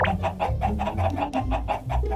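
Chickens in the video game Minecraft cluck in a small coop, a steady run of about nine close, evenly spaced clucks over a faint low background hum.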